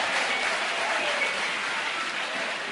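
A church congregation applauds steadily and densely throughout, a continuous wash of clapping with no break and no talk over it.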